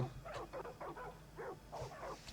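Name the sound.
dog barking in a video game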